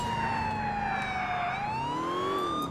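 A police siren in the video game GTA IV wails, rising and falling continuously, loud and close, with a low engine hum underneath.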